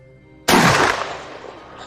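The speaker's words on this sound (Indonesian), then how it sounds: "Ton pun langsung menembak Jerman hingga membuatnya tewas" A single gunshot in a film, a sudden loud blast after near silence that decays over about a second.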